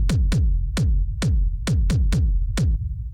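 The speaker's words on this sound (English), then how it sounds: "it's a standard sort of like techno rumble kick" A dirty techno rumble kick drum booms alone, eight deep thumps at an uneven rhythm, each with a bright click attack and a long low tail.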